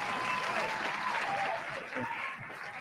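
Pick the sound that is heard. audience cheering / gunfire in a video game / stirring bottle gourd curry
audience cheering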